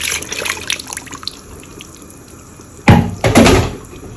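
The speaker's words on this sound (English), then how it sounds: "time to add the meat stock" Meat stock poured into a pot of okra stew, with a steady liquid trickle at first and then a louder, splashing gush near the end, close up and without talking.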